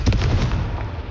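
A Confringo blasting spell in Hogwarts Legacy bursts with a loud, close explosive boom and crackle that quickly decays into a rumbling tail.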